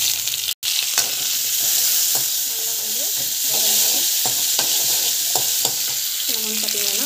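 Green onion and chilies frying in hot oil in a pan, with a steady loud sizzle throughout and occasional clinks and scrapes of stirring. No one speaks.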